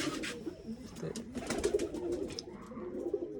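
Pigeons coo and flutter close by, soft repeated low calls with wing flaps and small chirps over a faint outdoor background.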